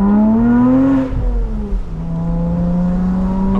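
Porsche Boxster Spyder engine revving while driving with the top down, a loud, close, smooth tone that rises, dips as the gear changes, then holds steady.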